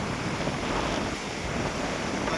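Flood water rushes near a road after a cloudburst in Navalgadh, Dhrangadhra, a loud continuous broadband roar mixed with wind buffeting the microphone, with no talk.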